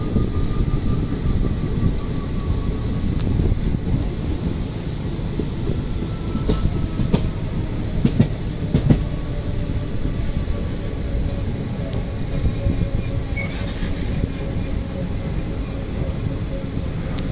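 Gowthami Express rumbles along heard from inside a 3AC coach, a loud steady roar with clickety-clack wheel beats and occasional squeals and knocks over the whole stretch, some faint voices beneath.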